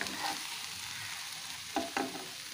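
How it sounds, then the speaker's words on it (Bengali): Poppy seeds dry-frying in a pan, a steady soft sizzling hiss with two brief scraping stirs of the spatula near the end, close and moderately quiet. "পোস্তটা বেশ ভাজা হয়ে এসছে,"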